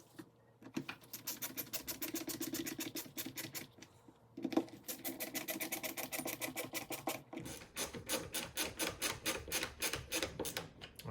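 Eight screws are driven back into a Suttner ST during a rebuild, making close, rapid ratcheting clicks in long rhythmic runs with brief pauses between screws.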